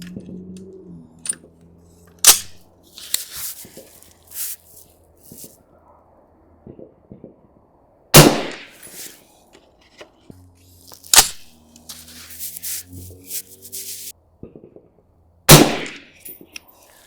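A suppressed LMT 12.5-inch SPECWAR rifle fires SIG 40 grain varmint rounds outdoors, giving a few sharp, well-spaced cracks, with some background handling noises in between.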